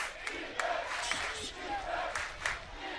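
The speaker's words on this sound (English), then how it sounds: "This Austin Soul crowd is alive." Football stadium crowd roaring during a division championship game, a loud, surging cheer with sharp shouts and whistles rising above the continuous crowd noise.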